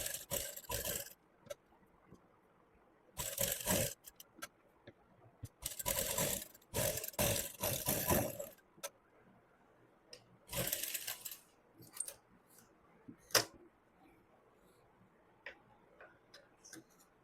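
Sewing machine stitching around a V neck with buckram, quiet rapid mechanical ticking in several short runs separated by pauses of near silence.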